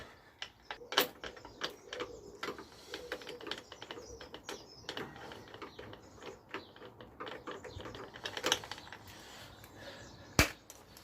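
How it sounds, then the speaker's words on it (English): Ratchet with an extension and universal joint turning a bolt on a Lexmoto motorcycle near the clutch cable, giving scattered faint clicks and clacks with a few sharper metallic knocks, close and quiet. "Get the ratchet the right way around."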